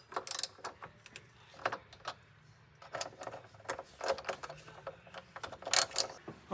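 Quiet, close clicks and ratcheting ticks as battery retaining screws are driven back in on a Lamborghini Gallardo, in irregular short bursts with brief pauses.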